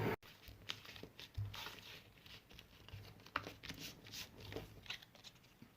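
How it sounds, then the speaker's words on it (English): Paper being scored along a line with a pair of scissors for a craft marble rollercoaster, giving faint, close scraping and crinkling strokes in uneven bursts, with no talking. "I'm just going to score along here with a pair of scissors."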